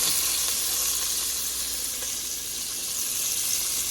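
Cut peppers sizzle loudly and steadily in a hot pan with bacon while cabbage is being cooked, a constant close frying hiss with no pauses.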